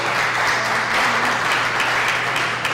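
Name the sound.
applause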